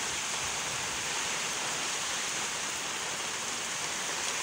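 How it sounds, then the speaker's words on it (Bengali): Heavy rain pours down steadily during a storm in a village, a dense, continuous close hiss of rainfall with no pauses and no voices. "এই দেখুন কেমন বৃষ্টি হচ্ছে,"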